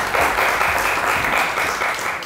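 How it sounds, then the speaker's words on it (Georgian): Steady audience applause at a Georgian comedy TV show, dense continuous clapping filling the whole stretch at an even level, with no voices over it. "აპლოდისმენტები დავით"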